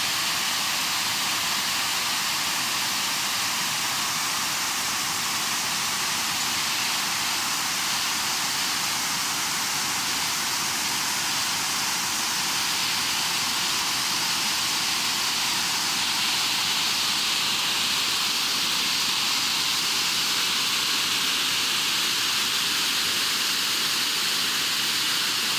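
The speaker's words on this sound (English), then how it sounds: "we have another waterfalls. This is Thundering Falls here in Vermont." Thundering Falls in Vermont pours in a steady, even hiss-like roar, constant and unbroken throughout with no voices.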